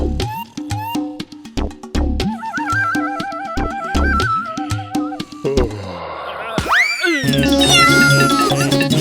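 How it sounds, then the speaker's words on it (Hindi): A cartoon cat meows in a Hindi animated show, with several short, tonal mewing calls mixed among cartoon sound effects and music, fairly loud and up front. "वीर, यहाँ बिल्ली है"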